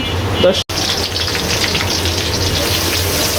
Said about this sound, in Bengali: এইভাবে পেস্টটা ভেজে নিতে হবে।